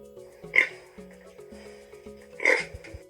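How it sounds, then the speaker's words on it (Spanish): A pig gives two short grunting oinks about two seconds apart, moderately loud and close, over a quiet background with a faint steady tone. "El chancho."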